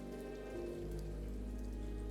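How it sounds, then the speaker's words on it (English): Rain falling in the Ender Lilies video game, a soft, steady patter under a low sustained tone, faint and even throughout. "But then the rain began to fall."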